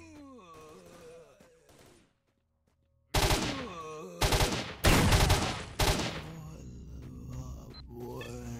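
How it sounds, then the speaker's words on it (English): Loud bursts of assault rifle fire in the shooter game S.T.A.L.K.E.R. come in several rapid, close volleys after a quiet stretch, following earlier voices and tonal sounds. "Just use my assault rifle."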